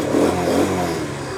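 A motorbike engine idles steadily with no throttle after its carburettor float needle is fixed, a close, even running drone with no talk.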